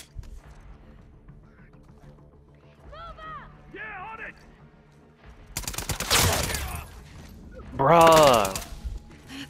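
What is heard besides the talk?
gunfire from The Last of Us Part II video game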